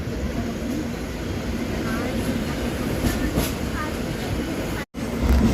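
A Mumbai local train rumbles past steadily and loudly, with a constant broadband roar and faint clatter seen from a moving train near Taloja, briefly cutting out near the end.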